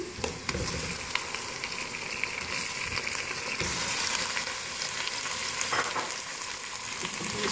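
Steady loud sizzling of chicken and onions frying in a hot pan, with occasional stirring scrapes and crackles throughout.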